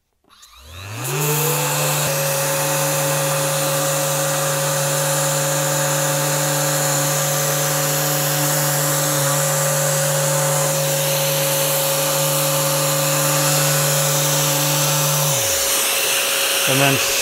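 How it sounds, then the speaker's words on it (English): A random orbit sander runs on wood trim, spinning up with a steady loud whine and hum that holds unbroken for about fifteen seconds before winding down. "Random orbit sander, so that motion is going to do a great job of leaving us without any sanding marks in our work."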